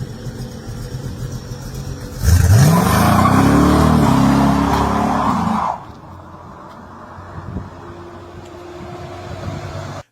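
A 1929 Ford Model A all-steel street rod sedan with a small block 350 and turbo 350 transmission revs up hard, a loud rising roar held for a few seconds, then settles back to a steady idle rumble.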